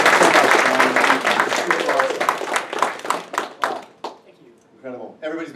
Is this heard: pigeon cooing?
no